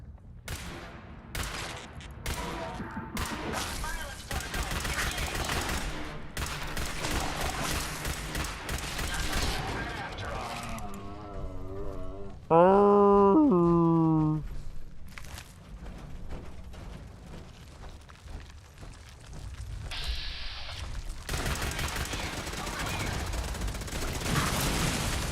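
Video game gunfire during a stream: rapid bursts and volleys of shots with booms, dense and loud for long stretches, with a brief tonal melodic passage midway.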